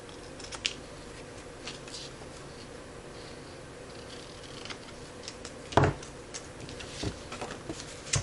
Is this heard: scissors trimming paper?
yes